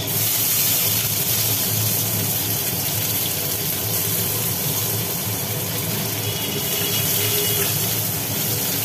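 Onions fry in hot oil with whole cumin, giving a steady, loud, even sizzling hiss that continues unbroken from start to finish, close by, with no voices.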